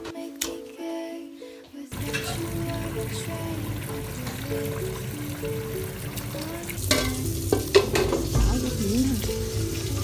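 Peach gum and white fungus bubble over high heat in a farmhouse courtyard, a close, continuous sizzling simmer with soft stirring and liquid sounds that grow louder toward the end.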